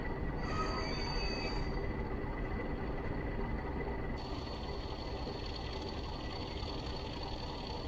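A Class 40 diesel locomotive hauls its train between Ipswich and Shenfield in Train Simulator Classic, a loud, steady engine drone with rumbling wheels and a high whine that shifts pitch partway through, no voices.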